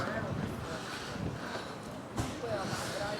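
Steady wind in San Marino rushing across the microphone, with flags waving, a continuous broadband roar with brief gusts, under faint voices in the background.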